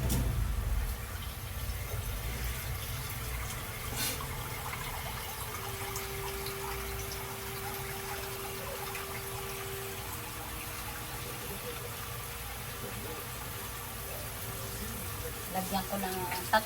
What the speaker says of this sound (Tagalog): Lalagyan na natin ng tubig yan.